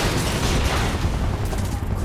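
Rapid gunfire bursts from soldiers in Final Fantasy VII Remake, a dense, continuous volley of shots mixed with mechanical clatter and low booms, loud and unbroken for a couple of seconds.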